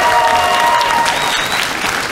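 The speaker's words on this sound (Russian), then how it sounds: "Аплодисменты!" Audience applause at a Russian comedy show as comedian Konstantin Pushkin is introduced, a dense, steady wash of clapping filling the whole stretch at full loudness with no break.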